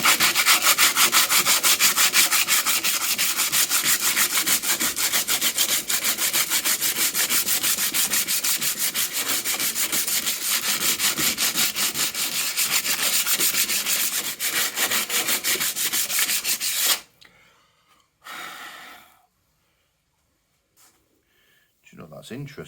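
Sandpaper rubs hard against wood, stripping yellow paint in a steady, dense scratching that continues close and loud for most of the time, then stops abruptly and leaves near silence with a few faint, brief knocks.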